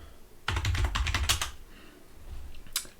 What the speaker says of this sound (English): So in your browser, just type getting Debian,